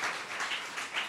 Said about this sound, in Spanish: Dale ese fuerte aplauso a Rey de Reyes